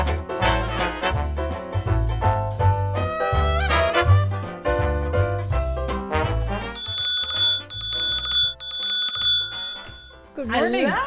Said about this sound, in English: I love your doorbell.